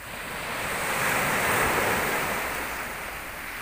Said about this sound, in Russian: Сидела сейчас и смотрела на волны.